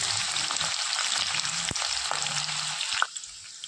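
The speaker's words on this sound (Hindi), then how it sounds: "2 कांदे मी अशा पद्धतीने कापून घेतले, ते घालते।" Sliced onions sizzle and crackle steadily in hot oil in a pan for a chicken bhuna masala, a continuous close frying hiss with a couple of sharp clinks and a stir near the end.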